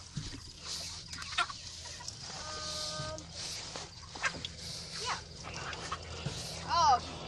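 Chickens on a farm cluck and squawk in short bursts while people talk nearby, with a sharper cry near the end.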